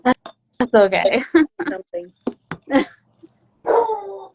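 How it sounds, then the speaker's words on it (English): A pet dog whimpers and gives short barks indoors, mixed in with and partly masked by a person talking close by. "Oh, that's my dog."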